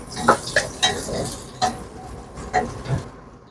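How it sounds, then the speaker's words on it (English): Onions stir-fried in a wok for sweet and sour chicken fillet, with sharp scraping stirring strokes repeating over a soft background sizzle. "First of all, the onions to bring out the flavor. Stir fry for a while."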